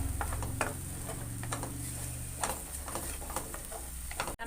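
A ground paste sautés in a pan with a soft, steady sizzle, overlaid by repeated light clinks and scrapes of a stirring spoon at an uneven pace; close and fairly quiet, with no speech.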